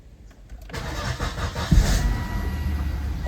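A Volvo car engine cranks briefly, catches and settles into a steady idle rumble nearby.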